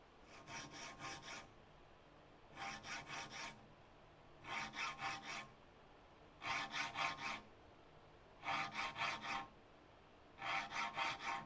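Hand saw teeth being filed sharp for a Shaker Enfield cupboard build: six evenly spaced bursts of quick rasping file strokes, each lasting about a second, close and clear with quiet pauses between and no talk.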